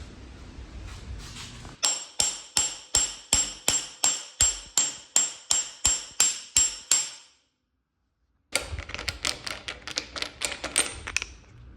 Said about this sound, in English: You whack that and it'll push it in perfectly straight because I got the deluxe tool.